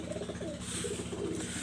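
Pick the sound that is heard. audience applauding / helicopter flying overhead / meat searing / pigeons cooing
pigeons cooing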